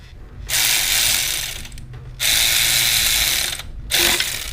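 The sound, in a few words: ratchet tightening bolts while replacing Jeep Wrangler alternator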